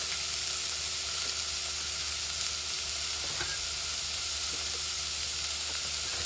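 Butter sizzles and fries steadily in a hot pan, a constant close crackling hiss with no pauses and no talking.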